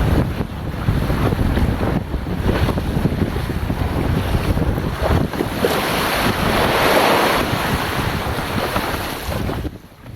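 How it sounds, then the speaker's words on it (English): Ocean waves build and wash during stand-up paddleboard training, with a steady roar of surf and heavy wind buffeting the microphone throughout, no voices. "As you can see, the waves will build up right in front of him."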